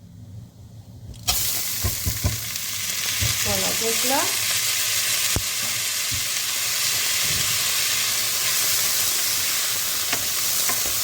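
A loud, steady sizzle of washed rice frying in a pan starts abruptly and continues, with a few stirring clinks and a brief spoken remark early on.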